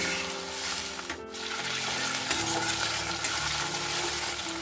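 Chicken pieces go into browned chopped onions frying in a pan, starting with a short dip and then a continuous loud, close sizzle with stirring noises running through.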